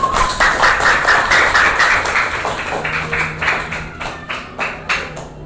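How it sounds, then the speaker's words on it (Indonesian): A classroom of students applauds a classmate, Mas Duha, with a dense burst of clapping that thins over a few seconds into scattered, separate claps from a handful of hands. "Kita beri tepuk tangan buat Mas Duha"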